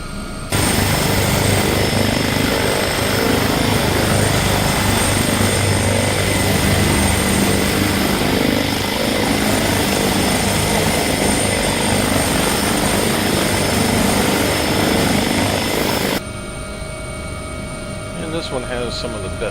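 Helicopter in the X-Plane 11 flight simulator, a loud, continuous droning rotor and engine roar with steady whining tones that holds for most of the clip, then drops abruptly to a quieter hum.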